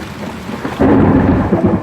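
Rain pours down close by in Queensland, a dense hiss that suddenly thickens into a heavier rush with a low rumble underneath.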